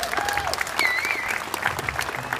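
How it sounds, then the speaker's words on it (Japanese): Audience applause at a 2016 fan-festival kickboxing exhibition event, a dense steady clatter of many hands clapping with some crowd noise and faint voices mixed in. "大きな拍手お願いします"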